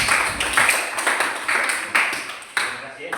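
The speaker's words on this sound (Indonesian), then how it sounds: "Sekali lagi kita berikan tepuk tangan." A small classroom audience applauds after a group discussion presentation, a thin, scattered clatter of hand claps with uneven bursts, fairly close and without talk.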